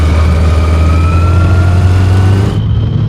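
A Yamaha XJ900 motorcycle engine drones loud and steady nearby on a ride in the Netherlands, a strong low hum with faint higher tones above it, and the hiss cuts off near the end.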